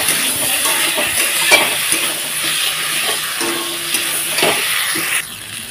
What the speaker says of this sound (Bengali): তো মশলাটাকে ভালোভাবে একটু কষিয়ে নিচ্ছি।